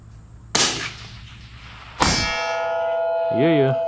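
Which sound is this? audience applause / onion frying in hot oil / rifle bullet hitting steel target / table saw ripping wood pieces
rifle bullet hitting steel target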